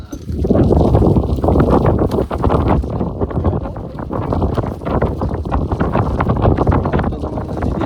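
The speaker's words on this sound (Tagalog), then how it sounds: "nandito naman yung hangin ngayon" Strong wind buffets the microphone outdoors, a loud steady roar with gusty rumbling throughout and no clear talk.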